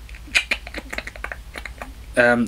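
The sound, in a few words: Predator clicking sound effect from the film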